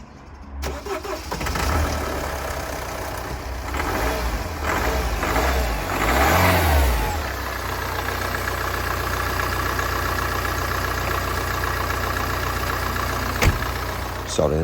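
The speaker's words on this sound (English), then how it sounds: "as you can hear, this is the Mini Cooper D, the diesel version" A Mini Cooper D diesel engine cranks and starts close by, then settles into a steady, clattering idle that runs on loudly for over ten seconds.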